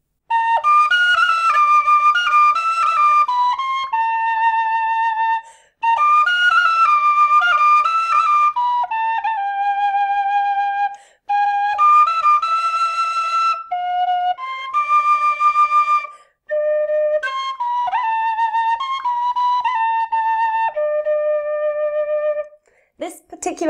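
A penny whistle plays a bright, clear melody of quick, pitched notes in several phrases, close and fairly loud with short pauses between runs and no voices.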